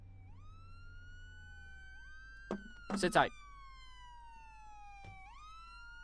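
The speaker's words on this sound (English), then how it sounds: "there's the sirens again." Police sirens in a video game set in Dallas, with long wailing tones that rise and fall and stay faint in the background. A short burst of louder noise cuts in partway through, and a voice speaks briefly over the sirens.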